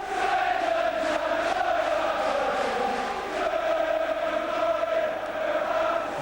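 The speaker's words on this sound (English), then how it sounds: "I needn't say a word, just listen to that crowd." Large football crowd roaring and chanting at the 1987 Third Division play-off final replay between Swindon Town and Gillingham, a steady, dense wall of massed voices held at constant loudness throughout.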